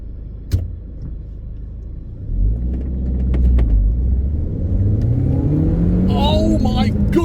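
An Audi TT Mk1 turbo pulls away from a standing start, its engine note rising loudly and steadily as it revs up through the gears, with a brief voice near the end.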